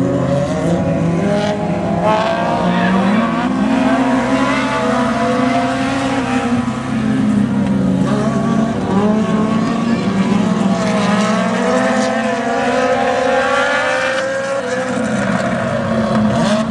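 Dwarf race cars roar off together at the green flag of a heat race, several engines droning loudly and continuously with pitch swelling and falling as they circle, under an announcer's voice.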